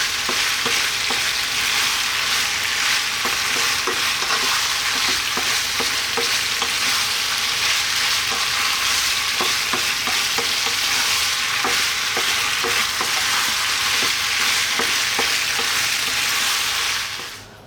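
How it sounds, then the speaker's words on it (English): Eggplant tomato pasta tossed in a hot pan, a loud continuous sizzle and frying hiss with scattered stirring scrapes and knocks, close up and uninterrupted until it cuts off at the end. "let's throw this around in the pan for 2 minutes"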